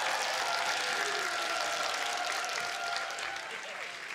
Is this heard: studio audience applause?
yes